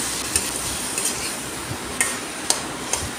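Potatoes fry in a pan with turmeric and salt, a soft steady sizzle broken by several sharp scrapes and clicks of a utensil against the pan as they are stirred, with no talking.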